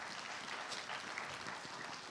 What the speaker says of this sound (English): Give Scarlett a round of applause.